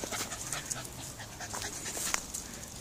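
A dog panting softly and rapidly at close range, faint and continuous for a few seconds, with no talking.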